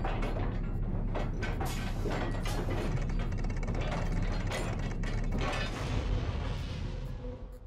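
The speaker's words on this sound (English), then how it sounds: "Grab the axle from the previous puzzle and use the axle to turn the statues so that the faces" Stone statues grinding and clicking as an axle turns them in the 18 Floors puzzle game, a steady ratcheting, gear-like mechanism running continuously at close range and fading slightly near the end.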